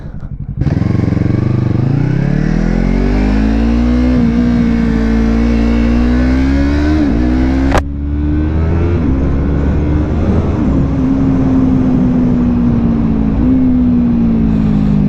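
A 2017 Yamaha MT-03 motorcycle engine is heard while riding, loud and close with a steady drone that rises and falls as the revs change, plus a sharp click partway through.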